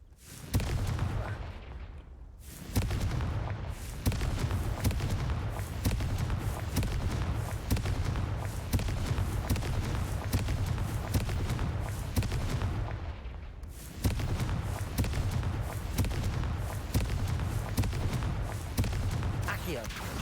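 Repeated fiery blasts from the Confringo fire spell in Hogwarts Legacy, booming explosions and crackling bursts filling the whole stretch loudly, with two brief lulls, while a player's voice talks over the action.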